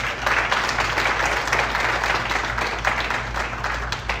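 Steady applause from an audience at a volunteer appreciation and kick-off meeting, dense and sustained clapping filling the room for the whole stretch, with a low hum underneath.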